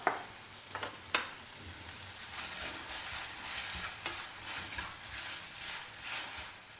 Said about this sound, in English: Stir fry everything together till the tomatoes become nice and soft.